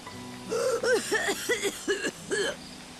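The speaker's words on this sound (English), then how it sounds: "That cough." A video game character in Final Fantasy 13 coughs in a short run of about five throaty, voiced bursts, close and fairly loud, with quiet game music underneath.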